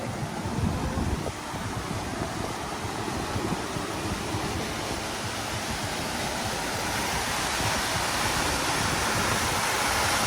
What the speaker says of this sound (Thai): เป็นปล่อยน้ำนะครับเนี่ย เสียงดังๆปล่อยน้ำ